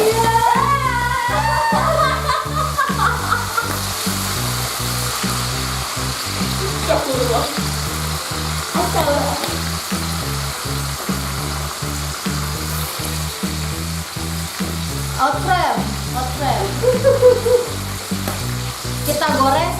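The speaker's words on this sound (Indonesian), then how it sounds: "Kita goreng sampai cabenya matang ya." Chilies sizzle hard in hot oil while being cooked for a spicy wild duck dish, with a steady rhythmic scrape of stirring throughout.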